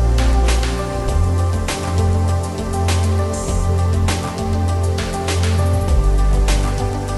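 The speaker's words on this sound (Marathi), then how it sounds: "बघू शकता पाऊस किती मोठा आलेला आहे." Heavy monsoon rain drums steadily on an umbrella outdoors in a village, a loud, continuous dense patter with brief heavier gusts, close to the ear and unbroken throughout.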